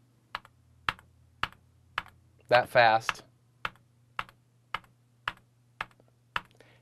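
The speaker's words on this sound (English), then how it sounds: "I can tap with the T key on my keyboard" A T key on a computer keyboard is tapped in a steady rhythm, about a dozen crisp, close clicks evenly spaced, with a brief spoken phrase in the middle.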